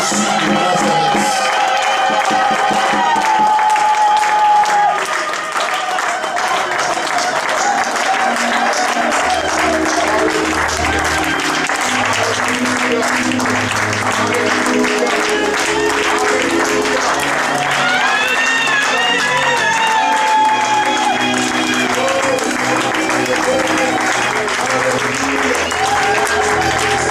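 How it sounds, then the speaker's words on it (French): A church congregation applauds and cheers loudly for Jesus, with dense sustained clapping and crowd noise throughout, and voices shouting and singing over it. "Je veux qu'on acclame très fort Jésus de Nazareth."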